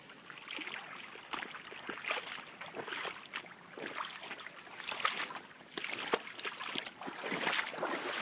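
Floodwater pours down through an English village in a soft but continuous rush of splashing and gurgling, with uneven bursts of spatter.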